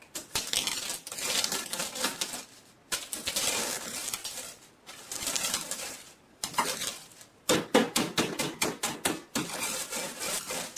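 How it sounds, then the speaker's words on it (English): Repeated crunching and cracking as cocoa beans are crushed in a plastic bag with a rolling pin, bursts of rough crushing noise in uneven strokes with short pauses, close and fairly loud, no voices. "you want to thoroughly crush all of the beans inside the plastic bag"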